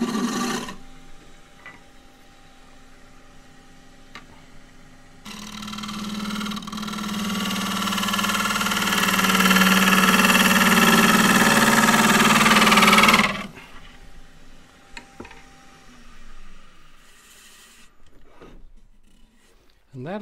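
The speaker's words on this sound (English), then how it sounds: "There's a shade thick there, and I'll just take that out with the smaller gouge." A wood lathe turning a claret ash vase, a gouge cutting in one sustained loud hissing scrape of about eight seconds over the motor's steady hum, which carries on quietly before and after.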